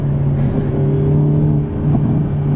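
A Hyundai Elantra N with a manual shifter and electronic limited-slip differential accelerates, its engine droning steadily in a close, in-cabin hum with a brief flutter partway through.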